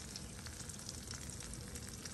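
Two halves of steak sizzle loudly in a hot pan, a steady, dense crackling hiss with no voices.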